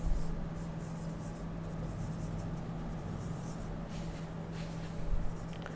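Steady scratching of chalk or marker on a board as a math question on curves in space is written out, a soft continuous rasp with faint room noise and no talking.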